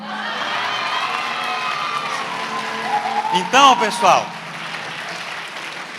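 Brief burst of audience applause and cheering at a university law week event, rising under a speaker's voice and fading quickly as he resumes talking.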